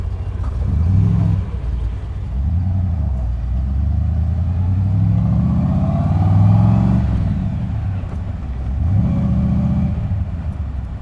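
A 1996 AC Cobra MkIV's powerful engine rumbles loudly at idle, swelling in a couple of deep revs before settling back to a throaty hum.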